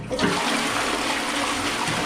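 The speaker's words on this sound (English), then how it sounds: "It's how the toilets flush." An Australian toilet flushing, dumping a rush of water straight into the bowl without a swirl, a steady close hiss of gushing water lasting the whole moment.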